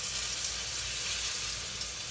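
Filet mignon steaks searing in a very hot pan, a loud, steady, close-up sizzle with constant crackling hiss and no pauses.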